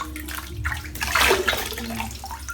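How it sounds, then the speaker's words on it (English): Water running and splashing as hands wet the face before a cold-water wet shave, a fairly loud watery rush rising in the middle of the stretch, close by, with no talk over it. "Let's wet the face."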